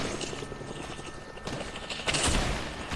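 Gunshots in the Fortnite video game, scattered bursts and single cracks over a whirring mechanical drone, with a louder cluster of shots near the end.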